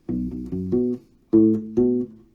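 Short funky U-Bass phrase played alone, a handful of plucked, round low notes in quick syncopated rhythm, then a pause and two longer accented notes, close and clean.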